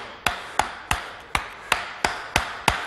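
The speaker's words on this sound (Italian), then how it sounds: "incomincio intanto a prendere un martello più piccolo perché l'entità dei colpi è inutile che sia" A small hammer strikes stone while sculpting, nine sharp, evenly spaced metallic taps at a steady rhythm, close and clear with nothing else heard.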